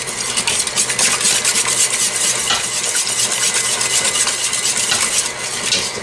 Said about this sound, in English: I whisk it for a minute or so to dispel any lumps that might be forming.